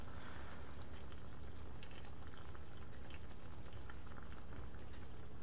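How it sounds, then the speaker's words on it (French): Tunisian ojja with merguez simmering in a covered pan, a faint, even bubbling hiss that holds steady from start to finish with no stirring or voices. "On couvre et on laisse mijoter 4 à 5 minutes."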